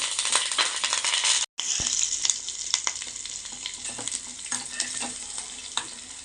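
Green chillies, ginger and curry leaves crackle in hot oil in a pan, a bright close sizzle with scattered spatula clicks and a brief break near the start, with no talking.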